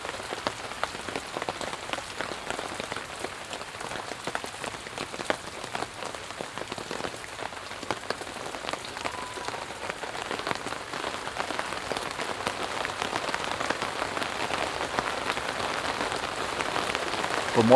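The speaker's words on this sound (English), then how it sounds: "This is the heaviest rain we have seen in the area today." Heavy rain pours steadily in Baltimore, a dense, even hiss of drops drumming on surfaces for the whole stretch, swelling slightly toward the end with no talking.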